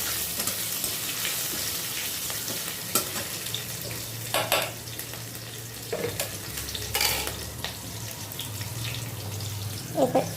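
Chopped chili hits a pan of frying samosa filling, giving a soft continuous sizzle with occasional stirring scrapes and clinks and a brief splash of water near the end.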